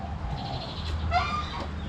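Ducks or geese honk and cluck in a short burst of overlapping calls, heard nearby over a constant low rumble of outdoor background noise during the Songkran holiday trip in Thailand.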